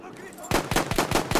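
Rapid automatic gunfire in Battlefield 1, a quiet moment then a burst of about six sharp, evenly spaced shots at close range.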